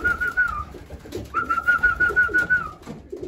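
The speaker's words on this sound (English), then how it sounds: "sounds like my birds are coming in. Here they come." Racing pigeons returning to their loft give soft, low cooing and rustling, close by, while two long, steady whistles call them in.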